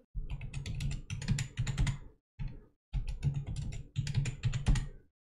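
A password is tapped out on a computer keyboard in bursts of crisp, close key clicks separated by short pauses.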